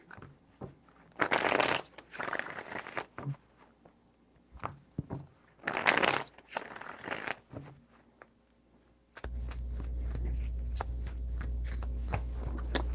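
Two bursts of tarot cards being riffle-shuffled, each a rapid crisp flutter lasting a second or two, followed by a steady low hum with faint clicks.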